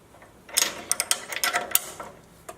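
Bolts on a Harbor Freight chipper's motor mounts are tightened with a ratchet, giving a close burst of quick metallic clicks and ticks lasting about a second and a half, then a final click.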